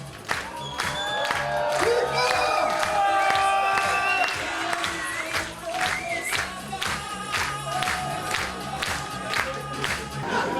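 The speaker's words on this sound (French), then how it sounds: "Et le public hurle dans la salle." A hypnotist show audience screams, whoops and cheers loudly in a hall, a sustained roar of voices with clapping running through it.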